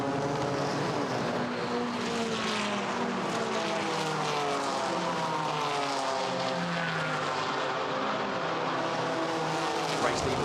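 GT4 race cars roar past on the Monza circuit during a GT4 European Series race, engines droning and shifting pitch continuously at mid distance, with a commentator talking over the racing.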